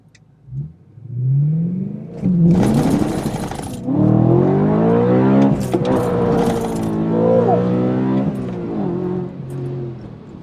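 A BMW E92 M3 V8 with a Gintani tune and Mille Miglia exhaust launches hard at a raceway, engine revving up through gears in loud rising sweeps with brief shift breaks, screaming close by for several seconds.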